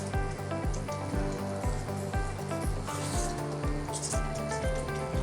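Pink pasta in sauce cooking uncovered on an open gas flame, a continuous low sizzle with faint bubbling and soft rubbing scrapes from stirring, heard up close with no talking.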